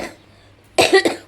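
A woman coughs two or three times in a quick, harsh burst at close range after a short quiet pause.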